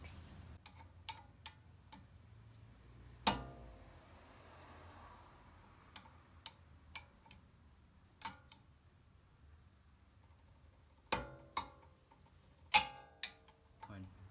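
Sharp isolated clicks from a torque wrench tightening the CV axle nut on a 2006-2011 Honda Civic Si, irregular metallic ticks in a quiet garage, with a few clustered together near the end.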